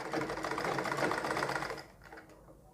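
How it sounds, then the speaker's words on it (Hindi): A sewing machine stitches slowly along the edge of buckram while a suit arm design is made, a close steady mechanical whirring that cuts off abruptly, leaving a few faint handling sounds. "धीरे धीरे मशीन चलाएंगे, बिल्कुल इस बुकरम की किनारे पर"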